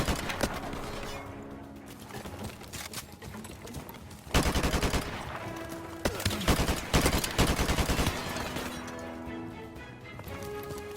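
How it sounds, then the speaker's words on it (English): AK-47 fire in Call of Duty, a sustained series of rapid automatic bursts with sharp cracks, some pauses and louder volleys, with faint game effects underneath. "This is the AK-47, and it has a lot of recoil."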